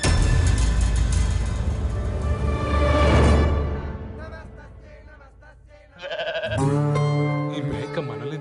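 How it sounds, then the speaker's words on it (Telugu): A goat bleats in a few loud, wavering cries close by near the end, after a stretch of dense, noisy background sound, with voices talking at times. "ఈ మేక మనల్ని తగులుకుందేంట్రా?"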